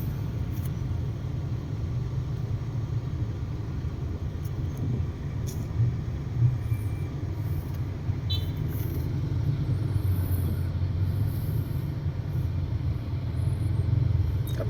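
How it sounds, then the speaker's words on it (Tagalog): Heavy road traffic rumbles steadily, a dense low drone of cars and motorcycles passing at a moderate distance, with no gaps and no talking. "Ang traffic nito."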